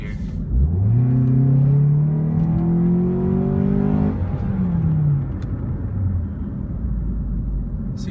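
A 2012 Ford Focus engine revs up steadily as it accelerates through a turn, its pitch climbing through the gears before settling into a lower rumble, close and loud throughout.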